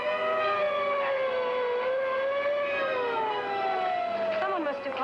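An ambulance siren wails steadily in a long rising-and-falling tone, fairly near and continuous, with a second siren sweep entering toward the end.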